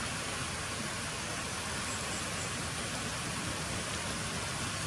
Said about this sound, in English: There's the raindrops on there.